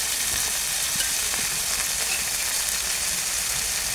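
Eggs frying in oil with turmeric give off a steady, close hissing sizzle that holds evenly for the whole stretch, with faint stirring scrapes underneath.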